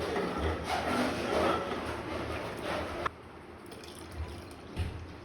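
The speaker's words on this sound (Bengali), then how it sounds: "আমি একটু জল দিয়ে দিলাম" Water poured into a pot of thick milk on the stove while cooking payesh, a steady liquid splash for about three seconds, then quieter kitchen sounds with a couple of small clinks.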